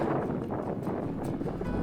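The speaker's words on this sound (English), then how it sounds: "You can hear the sound of the wind as well." Wind blowing in strong, gusty outdoor conditions, a continuous rumbling buffet that fills the whole clip with low, rough noise and no other clear sounds.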